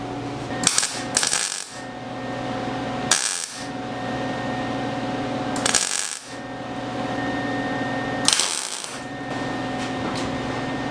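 Coat hanger wire being stitch welded into a panel gap on a 1974 Dodge Challenger, four short crackling bursts of about half a second each, spaced a couple of seconds apart over a steady low hum, with no talking.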